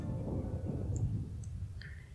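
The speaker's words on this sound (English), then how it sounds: "It's thundering." Low rumbling thunder rolls during an autumn storm in The Sims 4, a muffled distant grumble with a few faint clicks over it.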